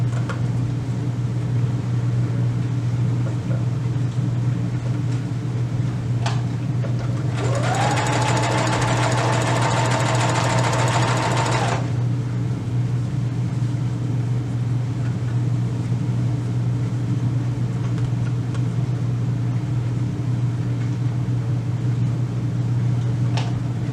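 A sewing machine stitches around the layers of a fleece beanie with a steady, continuous motor whir, a louder, higher burst of fast stitching in the middle, then a return to the even running hum.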